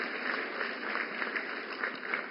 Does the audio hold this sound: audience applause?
yes